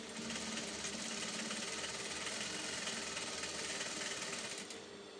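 A sewing machine stitches a trouser side pocket closed, running as a steady, continuous mechanical whir close by for about five seconds before easing off at the end.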